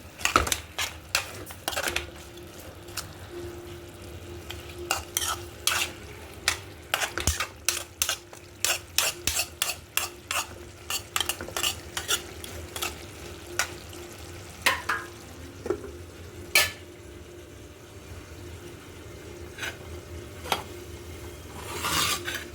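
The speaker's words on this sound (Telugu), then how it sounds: "చికెను ఒకసారి తిప్పుకుందాం ఫ్రెండ్స్" Chicken for a chicken fry sizzles steadily in a hot pan while a utensil scrapes and clacks against the metal in quick, irregular bursts, close and fairly loud, with no voices.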